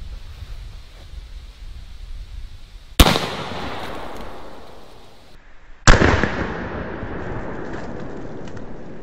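Two loud, close shotgun blasts from a Zeus 12 gauge, fired about three seconds apart outdoors, each a sharp crack followed by a decaying rumble, with no talking.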